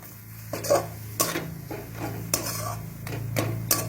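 Spiced potato filling for Bengali aloo chop stirred and pressed in a pan, a spatula scraping and knocking against the metal in several distinct strokes over a low steady sizzle, close by with no talking.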